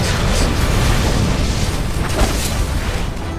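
Missiles exploding during a boss fight in Final Fantasy VII Remake, a continuous loud roaring barrage of blasts and rumbling booms with no talking over it.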